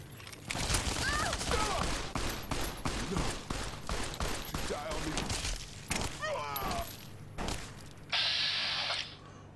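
Dense gunfire from a caravan ambush in the video game Fallout New Vegas, rapid overlapping shots and bursts filling the whole stretch, loud and close, with a voice shouting briefly among them.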